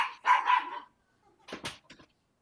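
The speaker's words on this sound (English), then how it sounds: "I'll let the dog out." A dog lets out two quick, close barks, followed after a short pause by a softer burst of yips and whimpers, with quiet in between.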